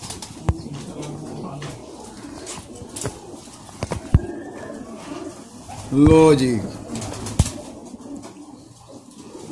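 High-flyer pigeons cooing near a loft, one clear harmonic coo rising around the middle, with someone talking throughout and occasional sharp clicks and handling knocks.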